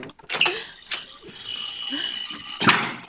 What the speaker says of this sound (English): I think it's the fire alarm for this old dumb building that I'm staying at